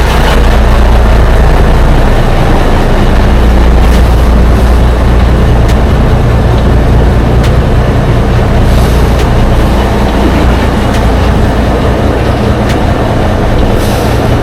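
Large diesel engine in Bangkok droning loudly and continuously up close, a heavy low-pitched rumble with faint clicks and knocks on top, no speech.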